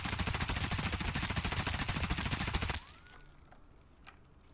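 Sustained automatic MP5 fire in Escape from Tarkov, a dense rapid burst of shots lasting nearly three seconds, loud and close, then cutting off to quiet room tone with a faint click or two.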